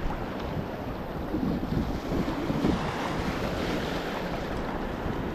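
Sea waves surge and slosh steadily around a small fishing boat out on open water, a continuous loud roar mixed with gusting wind buffeting the microphone, with no voices.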